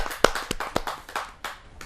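Audience at a televised kavi sammelan poetry gathering applauding as a poet is welcomed on stage, a short burst of scattered hand claps with a few sharp, loud strikes standing out.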